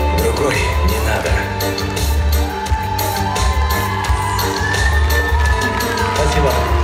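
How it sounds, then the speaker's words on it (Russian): A loud audience cheers, whoops and claps without a break at the third round of the "Golden Woman" contest among NGMK divisions, with music running underneath. "ваши бурные аплодисменты, дорогие друзья!"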